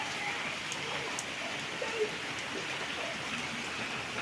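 Heavy rain falls steadily on desert rose plants outdoors, a dense, even hiss of drops on leaves and surfaces with no voices over it.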